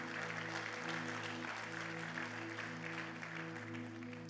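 A church congregation applauding during a sermon at the cross, a continuous wash of clapping from many people over a steady sustained tone, moderately loud and without clear talk.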